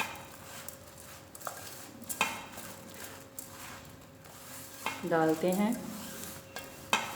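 Mango pickle being mixed with spices in a pot, soft stirring scrapes and utensil clinks, faint and intermittent, with someone speaking briefly.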